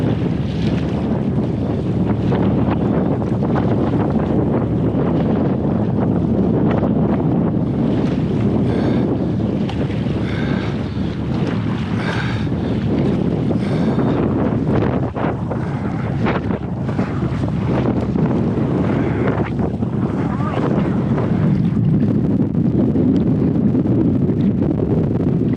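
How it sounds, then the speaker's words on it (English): A strong headwind blows hard across an open Arctic lake, buffeting the microphone with a constant rough roar and faint water sounds underneath, with no talking. "It's actually much more of a headwind than I'd anticipated it would be."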